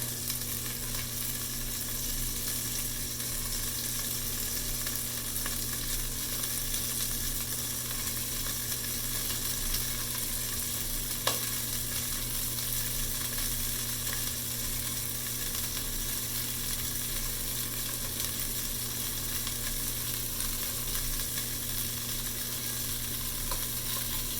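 A batch of shrimp frying in a pan for salt and pepper shrimp gives an even, continuous hiss over a low steady hum, with one brief tick partway through and no talking.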